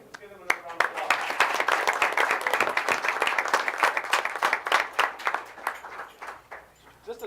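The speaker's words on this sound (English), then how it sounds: "Let's give them another round of applause." A room of people at a school board meeting gives a round of applause, dense close clapping swelling then tapering off over several seconds, with some talk mixed in.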